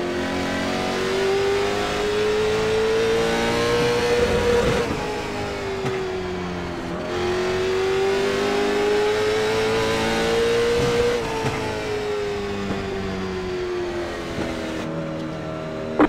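Late model stock car engine in the iRacing sim, a steady loud drone whose pitch climbs and falls with each lap segment, revving continuously without pause and no talk over it.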